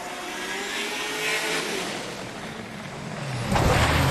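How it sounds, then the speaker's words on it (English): V8 drift car at a Drift Kings Asia Cup round in Malaysia, its engine droning steadily at a distance, then swelling louder and closer near the end. "Let's listen to that V8"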